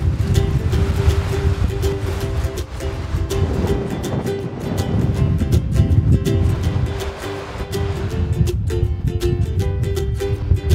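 Strong beach wind of about 30 knots gusting to 35 near Rangiputa Beach, a loud continuous roar of buffeting wind noise with surf beneath it throughout.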